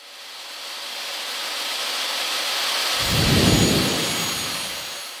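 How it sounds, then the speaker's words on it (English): A power saw cuts a large sheet of half-inch MDF, a loud steady whine that swells into a heavier roaring cut midway and then eases off, with no talk. "I started out by cutting a large sheet of 1/2-inch MDF to size."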